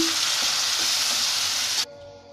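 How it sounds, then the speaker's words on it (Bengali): Red lentils poured into browned onions in hot oil for a Bangladeshi egg and chana dal curry, hissing in a loud, steady close-up sizzle that drops away abruptly near the end, leaving a faint hum. "আমি এখন একটির মধ্যে ডাল ছেড়ে দিচ্ছি, বাগার দিয়ে দিচ্ছি।"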